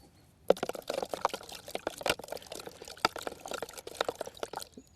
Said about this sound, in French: Après, j'ajoute un petit peu d'eau